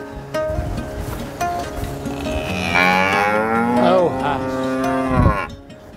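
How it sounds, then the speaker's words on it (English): Cattle moo loudly and close, several long drawn-out calls overlapping, as the herd is moved out of a winter paddock toward green grass. "Hey, cows."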